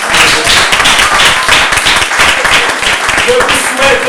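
A church congregation claps and cheers for Jesus in dense, loud, rapid applause that fills the space, with voices shouting through it close by.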